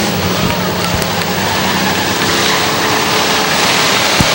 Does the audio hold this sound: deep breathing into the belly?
no